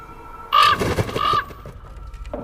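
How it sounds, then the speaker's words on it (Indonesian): A crow caws loudly as it passes overhead in a film scene, one long harsh call close by, then quiet ambience. "Zoe pun dibuat kaget oleh seekor burung gagak yang lewat."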